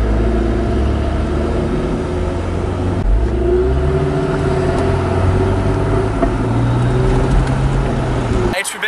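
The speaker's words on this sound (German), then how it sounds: "der Sound vom F-Type ist schon ziemlich geil. Ist halt der V8." A Jaguar F-Type's deep V8 engine rumbles steadily and loudly, holding a sustained drone throughout, with a brief sharp change at the very end.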